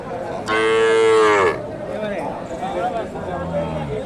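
A single loud, drawn-out moo from a cow rings out up close, followed by people talking amid a busy outdoor crowd at a cattle market.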